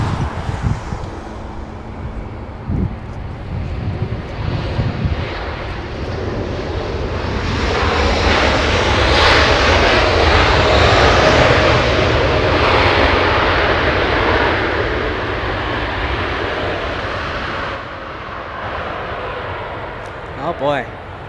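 A Korean Air Boeing 777 arriving from Seoul lands at Los Angeles International Airport, its jet roar building to a loud peak midway and then fading, while people talk over it.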